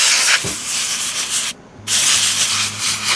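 An air compressor nozzle blows sawdust and debris out of a chainsaw during servicing, giving a steady hiss that drops out for a moment before resuming.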